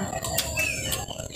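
A chicken makes short, scattered clucks and squawks close by, several brief calls over a noisy rural background with no talk.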